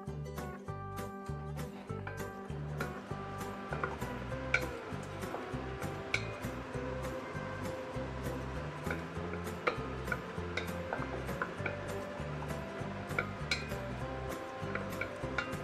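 A wooden spatula stirs braised pork leg in a cast iron pot, giving repeated close scraping and clinking ticks against the iron in a steady, busy rhythm over a low kitchen hum.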